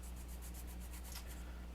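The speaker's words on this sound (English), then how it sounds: "So we'll just get the sanding stick here and go for it." Quick back-and-forth rubbing strokes of a sanding stick on a small plastic part of a Tamiya 1/48 Fw 190 A-8 model kit, steady and close, with a faint low hum underneath.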